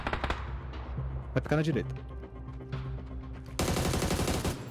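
Rapid bursts of gunfire and sharp shots in PUBG, ending in a dense volley, while a person talks over the action.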